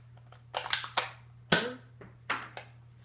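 A Nerf gun fired repeatedly at an outdoor range, sharp snapping pops with airy hisses, about five or six shots at uneven intervals, close and fairly loud with no talk.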